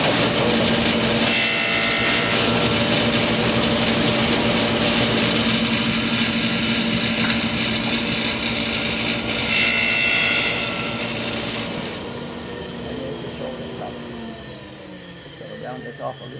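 Hand saw cutting the shoulder of a wooden tenon, with close, loud, continuous rasping strokes in a steady back-and-forth rhythm that ease off and fade toward the end.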